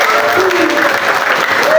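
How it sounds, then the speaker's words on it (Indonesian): A crowd claps steadily, a dense patter of applause throughout with a voice faintly mixed in. "semangat tuh, tepuk tangan dong"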